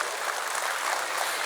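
Steady, dense applause from an audience at a Tamil student speech contest prize-giving, even clapping at moderate volume throughout with no voices.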